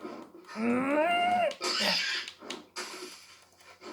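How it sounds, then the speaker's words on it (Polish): A pig in the survival game 7 Days to Die lets out drawn-out squealing grunts, loud and close, followed by a few shorter snorts and wheezy breaths. "Jup tą świnię!"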